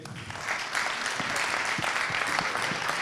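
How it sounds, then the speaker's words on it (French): Audience applause at the closing plenary of an entrepreneurs' forum, a dense crowd clapping that swells quickly and stays steady and full through to the end. "Marine, Léa, je vous demande de les applaudir s'il vous plaît."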